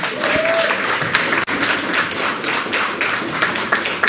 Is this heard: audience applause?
yes